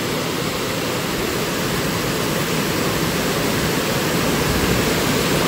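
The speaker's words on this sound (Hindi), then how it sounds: "भीमताल में पानी छोड़ा गया है निकासी, ये देख सकते हैं आप लोग तो किस तरीके से पानी जा रहा है" Water released from Bhimtal lake rushes through a dam outlet as a loud, continuous, close roar that holds steady throughout with no other sounds.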